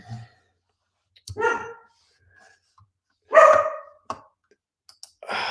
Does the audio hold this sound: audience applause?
no